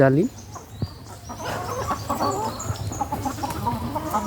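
Chickens clucking in an open, net-fenced farm enclosure, several birds clucking and calling close by in short bursts over low background noise.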